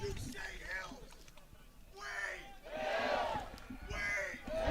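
Parents rally the crowd at a boys' county final soccer game between Wayne Hills and Passaic, with bursts of chanting and shouting voices rising in waves, loudest in the middle and again near the end.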